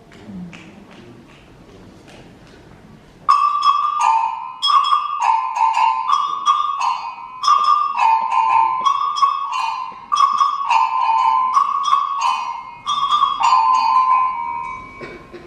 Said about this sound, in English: Our instrument is called the go-go bell.